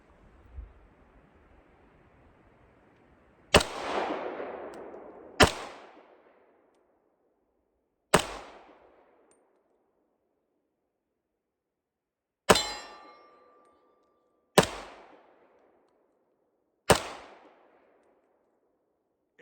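Six sharp pistol shots from a WWI-era semi-automatic at an outdoor range ring out one at a time, each loud crack trailing off in a brief echo, with uneven pauses of one to four seconds between them.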